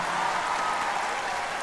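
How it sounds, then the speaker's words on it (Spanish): Sustained applause from a concert audience at a Teatro Metropólitan orchestra show, given for the mothers in the crowd: a dense, even wash of clapping that carries steadily through the moment without a break. "fuerte el aplauso para las mamás"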